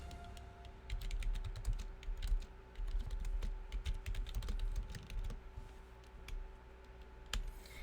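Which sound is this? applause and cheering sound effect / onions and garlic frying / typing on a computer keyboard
typing on a computer keyboard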